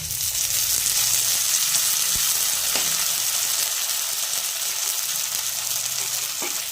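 Chopped tomatoes frying in hot oil with grated ginger and garlic, a steady, close sizzle running throughout with a few faint clicks of utensils and no talking.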